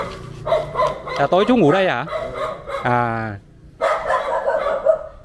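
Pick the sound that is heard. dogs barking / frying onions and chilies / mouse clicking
dogs barking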